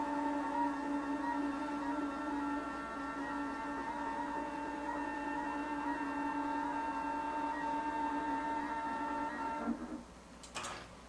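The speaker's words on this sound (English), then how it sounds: "the machine is moving to the start of that first row" Computerized quilting machine traveling to the start of a row, a steady mechanical whine with sustained tones, then a brief clatter near the end as it stops.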